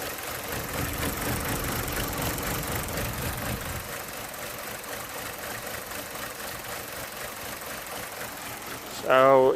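Opel Corsa D with a Z14XEP engine running with a misfire, an uneven rumbling idle heard close, steady throughout, with a voice talking over it and a brief louder burst at the end.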